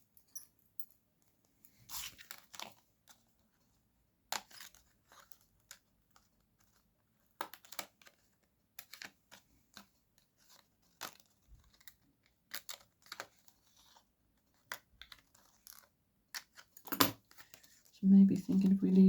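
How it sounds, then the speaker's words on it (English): Scissors snip through card for handmade card making, a run of sharp, close, irregular clicks and cuts with quiet pauses between, ending with a low voice. "just get my scissors to snip this out"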